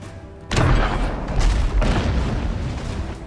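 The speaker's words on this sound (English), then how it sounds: "Let's shoot our mortar right up here." A ship's mortar fires in the naval combat game Abandon Ship, a sudden deep boom that rolls into a long rumbling blast and a second heavy thump, loud and close.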